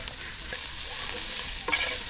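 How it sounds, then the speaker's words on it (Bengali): Onion, chili, shredded cabbage and carrot sizzle in a pan while being stirred, a close, even frying hiss broken by a few quick spatula scrapes and clicks. "পেঁয়াজ ও মরিচ হালকা ভেজে নিয়ে তাতে বাঁধাকপি কুচি এবং গাজর কুচি দিয়ে দিলাম"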